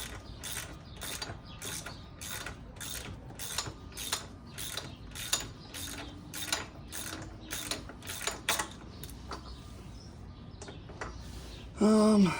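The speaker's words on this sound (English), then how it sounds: "Tighten up the foot peg here." A hand ratchet tightens the foot peg on a 2nd-gen Suzuki LTZ 400 ATV, steady rapid clicking strokes repeating about twice a second, close and clear, with faint birdsong in the background and a brief louder noise at the end.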